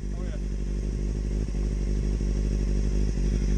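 A CBR-based racing motorcycle (180 kg, 100 horsepower) runs a steady, loud, close engine note at a practice start, with a constant drone throughout and faint voices underneath.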